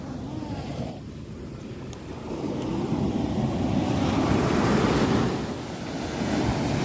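Rough sea waves wash and surge around a small fishing boat out on the sea during net fishing, with wind buffeting the microphone and the swell growing louder midway.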